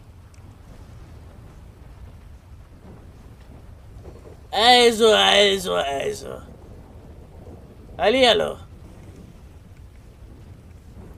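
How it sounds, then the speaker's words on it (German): Thunder and rain in a Grand Theft Auto role-play game, with storm, rain and giant waves: bursts of storm noise over a low, steady rain bed while a voice calls out briefly between them. "Gewitter, Regen, Riesenwellen"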